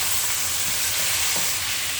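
Tomatoes hit hot sautéed masala for a chicken roast, giving a loud, continuous sizzle and hiss with faint stirring scrapes close by.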